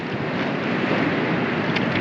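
Steady, dense wash of ocean surf in Tonga in the South Pacific, close and continuous, with wind noise mixed into the roar of breaking water.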